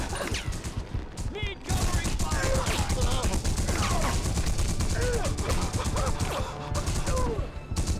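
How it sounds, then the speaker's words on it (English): Rapid bursts of gunfire and explosive impacts fill a scene in The Punisher video game on PS2, dense and continuous, with voices and other effects mixed underneath. "All I hear is gunfire"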